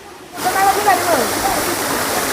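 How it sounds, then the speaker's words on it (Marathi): A monsoon waterfall roars steadily and loudly close by, its broad rushing wash starting abruptly and holding constant with faint voices mixed in. "बघा मित्रांनो हा धबधबा आहे आणि पावसाळी धबधबा आहे"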